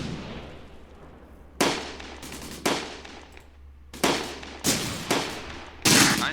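Tank cannon fire in the Close Combat video game, with a Panther tank among those shooting: five sharp, loud blasts arriving at irregular intervals, each followed by a short decaying rumble, and no talk.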